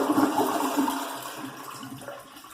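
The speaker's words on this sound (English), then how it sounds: "Now we're going to flush it, get all the water out of the reservoir." A toilet is flushed to empty the reservoir before its flush valve and fill valve are replaced, with a gurgling rush of water that fades steadily as the tank drains.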